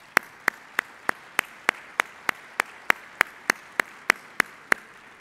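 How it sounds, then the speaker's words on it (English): Sparse clapping from a conference audience: crisp, evenly spaced claps in a steady rhythm, moderately close and fairly quiet, with no talking over them. "We would ask that we give both of these gentlemen a round of applause."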